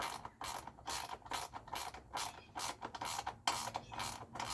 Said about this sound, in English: But I'm glad I have these ratchet wrenches.